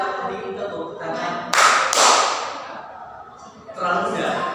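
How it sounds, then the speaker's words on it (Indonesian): A small group of learners in a classroom sings a clapping song, with two sharp, loud hand claps in unison cutting through the singing voices. "Siapa suka hati tepuk tangan."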